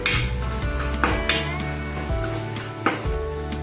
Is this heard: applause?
no